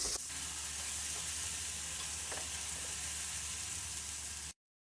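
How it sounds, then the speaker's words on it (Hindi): A steady sizzle of garlic-ginger paste frying with onions in a pan, with a couple of faint stirring scrapes, close and continuous before cutting off. "1 मिनट हम लहसुन अदरक के पेस्ट को प्याज के अंदर फ्राई कर लेंगे।"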